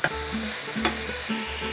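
Bacon sizzling in a pan, a steady crackling hiss with bursts of stirring and a brief louder pop, close up and with no talking.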